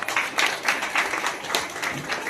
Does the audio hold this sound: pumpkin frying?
no